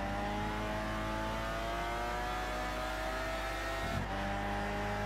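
An SRT race car engine in Gran Turismo 6 drones and revs loudly and continuously, pitch gliding as it accelerates, with a short dip and shift in tone near the end.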